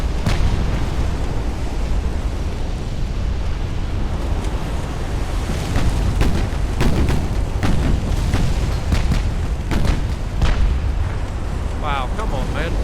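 Naval guns firing in the warship game Ultimate Admiral Dreadnoughts, a series of heavy booms and sharp cracks scattered over a loud roaring wash of sea and wind, several shots clustered in the middle of the stretch.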